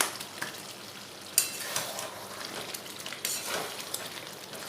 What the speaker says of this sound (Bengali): দিয়ে নাড়াচাড়া করে মিশিয়ে আরও কিছুক্ষণ কষিয়ে নেব।